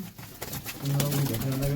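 Pigeons coo in a low, steady throaty murmur, close by, after a few brief rustles at the start.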